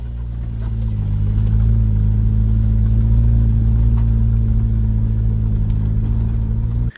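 A Jeep Wrangler on 35-inch tires crawls up the steep Hell's Gate off-road obstacle, its engine giving a loud, steady, deep droning rumble held at constant revs until it cuts off abruptly at the end.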